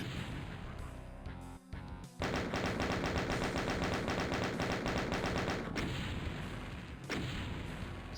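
Chaingunner enemies in Doom's Eviternity II megawad, Map 13 (Annihilate Me), unleash loud, sustained rapid-fire chaingun bursts, dense rattling fire that briefly cuts out and then resumes, with thumps and blasts mixed in.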